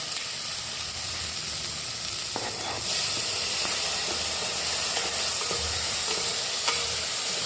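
Tomatoes go into browned onions in a pan while making low-oil sambar, giving a steady close sizzle with occasional stirring clicks and no talk.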